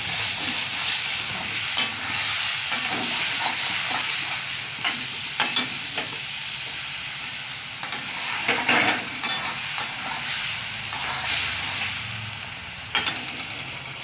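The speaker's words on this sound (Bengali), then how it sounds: "মশলার মধ্যে আদা, পেঁয়াজ, রসুন, কাঁচা লঙ্কা ভালো করে কষাবো মশলাটা।" Masala of ginger, onion, garlic and green chili frying in a pan, with a continuous sizzle and repeated scraping stirs of a spoon at irregular intervals, close and fairly loud.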